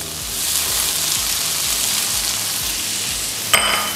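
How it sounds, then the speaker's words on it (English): Mixed vegetables and onions fry in a pan for American fried rice, a steady close sizzle with faint stirring scrapes and a sharp clink near the end. "And then you put veggies in. Yes, put it all. Mix veggies, onions,"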